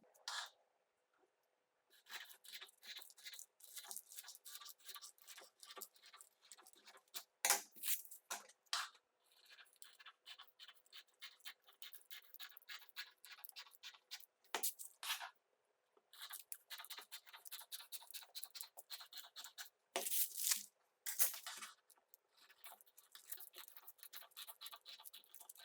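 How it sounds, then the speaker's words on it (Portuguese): Scissors snip through fabric along a seam allowance while cutting a blouse pattern, a steady run of quick, crisp close-up cuts with short pauses between bursts, no talking. "Agora eu vou cortar aqui na minha margem de costura."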